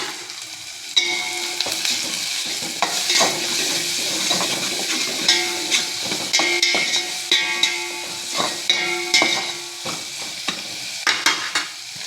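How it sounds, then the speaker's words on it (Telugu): Ridge gourd and soya chunk curry with freshly grated ginger, garlic and turmeric sizzles steadily in a pan, with repeated scraping stirs and light utensil knocks throughout, close and fairly loud with no voices. "కొంచెం సాల్ట్ వేసుకుంటే త్వరగా ఫ్రై అవుతుందండి మనకి"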